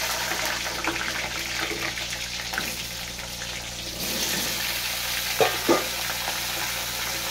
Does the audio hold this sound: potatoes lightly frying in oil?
yes